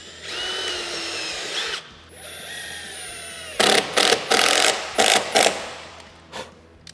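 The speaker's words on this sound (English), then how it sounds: "A little pre-drill first, way back here, so that, of course, the corner piece hides it" A power drill pre-drills a hole in a baseboard during vinyl plank flooring installation, whining and ratcheting up in pitch, then firing a series of short, loud bursts of grinding as the bit spins into the wood, with no talking.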